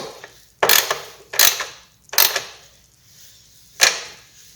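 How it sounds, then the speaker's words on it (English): Seat bolts being tightened on a Yamaha TW200 motorcycle with a hand tool, giving four loud, separate ratcheting bursts with short gaps between them and no talk. "Go ahead and reinstall your seat bolts."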